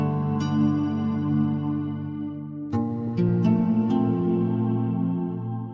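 Acoustic guitar chords wash through the free Soundtoys Spaceblender ambient reverb on its Ambient 1 preset: a few soft plucked notes over a long, hazy sustain that blurs each chord into the next, with steady loudness and no talking.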